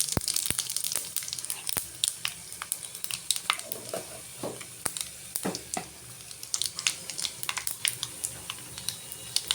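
Dried chilies and bay leaves sizzle in hot oil, a steady crackle with sharp pops scattered throughout, close and fairly loud with no talking.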